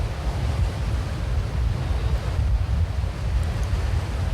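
Waist-high floodwater from an overflowing pond runs across the path in the game Swan Song, a steady rushing wash with a heavy low rumble, loud and continuous with no voices.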